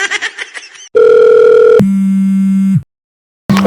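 A phone tone sounds loud and close in a Chhattisgarhi comedy home scene, a steady beep after brief chatter, then a lower sustained tone for about a second before cutting off and briefly resuming.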